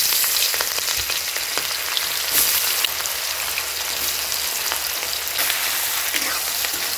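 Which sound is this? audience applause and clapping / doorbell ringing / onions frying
onions frying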